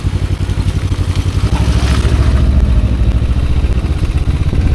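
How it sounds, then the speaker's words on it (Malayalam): A Kawasaki Ninja 300 twin-cylinder motorcycle engine rumbles close by with a low, throbbing pulse that swells briefly as the revs rise, then settles into a steady running drone, with no one speaking. "ട്വിൻ സിലിണ്ടർ എൻജിൻസ് വേറെ ലെവലാണ്"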